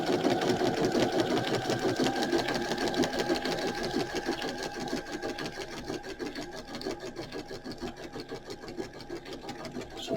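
Sewing machine stitching a hem-style up and down stitch, a fast steady mechanical chatter of needle strokes running continuously at close range and gradually easing slightly in loudness.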